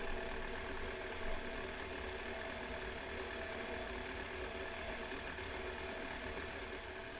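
Electric mixer running on low speed as cubed cold butter is mixed into flour, a steady mechanical whir droning evenly throughout at moderate level, no talking.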